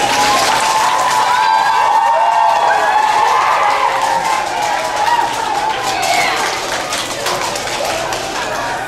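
An elementary school assembly audience applauds in a gym or hall, producing a steady, fairly loud wash of clapping from many children with some cheering and voices mixed in.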